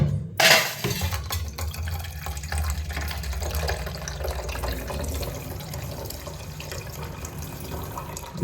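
Water runs steadily from a tap into a container, a continuous hissing splash that starts with a sharp knock and carries on unbroken, with no talking.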